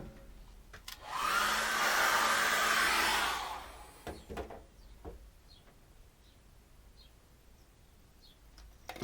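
A hair dryer blows on a wet acrylic sunset landscape painting on canvas, whirring steadily for a few seconds before switching off, followed by faint clicks and handling sounds.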